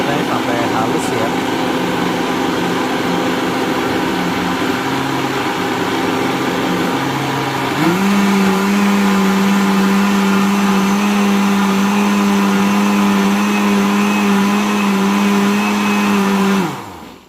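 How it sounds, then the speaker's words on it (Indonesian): A blender grinds an onion-based spice paste with a loud, steady motor whine that jumps up in pitch partway through, holds there, then stops. "Nah udah begini tinggal di blender deh."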